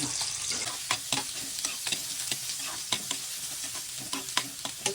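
Paneer is stirred and heated in a hot pan, a faint sizzle under repeated sharp scraping and tapping strokes of a spoon against the pan.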